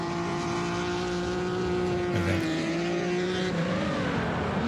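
A drift car engine revving hard in the distance, a steady droning tone that rises and falls with throttle changes, with a brief tire squeal in the middle.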